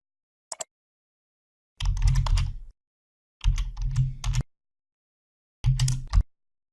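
Typing on a computer keyboard while entering header text in an Excel 2016 spreadsheet, with three distinct bursts of rapid, close keystrokes separated by silence and preceded by a single click.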